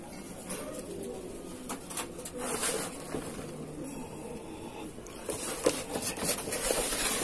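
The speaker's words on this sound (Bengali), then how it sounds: "পায়রা কিরম ভাবে খাচ্ছে" Domestic pigeons feeding, with repeated soft cooing and scattered pecking and fluttering taps, close and fairly quiet, with no speech.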